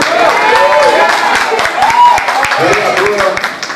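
An audience claps through a council inauguration ceremony in Magé, with steady loud applause and crowd noise and a voice speaking over it.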